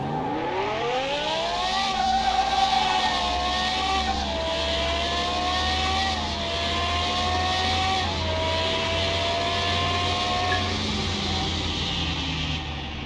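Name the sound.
Turbo V8 Special car racing Supra in Car Mechanic Simulator game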